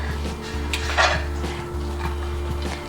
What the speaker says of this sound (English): Put the shallots in.